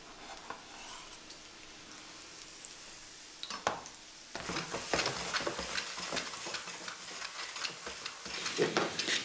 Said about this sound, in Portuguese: Juntar a xalota ao azeite.